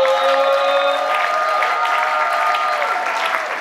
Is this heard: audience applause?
yes